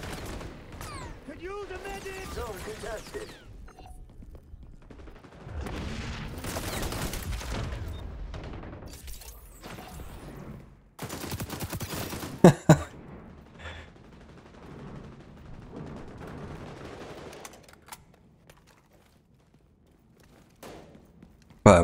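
AK rifle bursts in the XDefiant first-person shooter, loud rapid gunfire in several clustered volleys with thuds and footsteps between, a voice talking over parts of the action.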